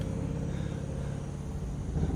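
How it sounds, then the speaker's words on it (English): A hot rod car rumbles past on a road, a low steady engine drone holding at moderate distance for a couple of seconds with no voices. "I've been seeing a lot of hot rods coming by today."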